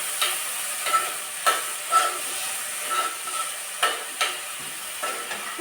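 Eggplant stirred into softened onions frying in oil, with a steady sizzle broken by several scraping stirs at an uneven rhythm, close and moderately loud with no talking.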